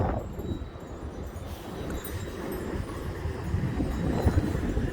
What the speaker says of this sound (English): There's a good gust right there.